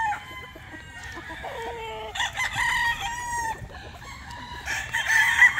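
Roosters crow and chickens cluck at a gamefowl farm, with several overlapping nearby crows and clucks over a faint farmyard background.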